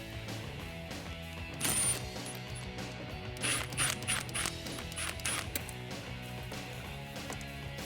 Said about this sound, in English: I know that we're going to be using an 8mm socket in order to undo this.